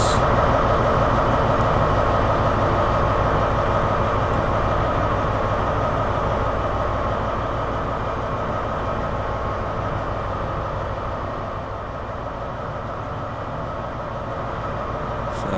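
Azuma and GWR 802 trains pass in Train Sim World as a loud, steady rolling rumble with rhythmic wheel clatter that eases slightly toward the end.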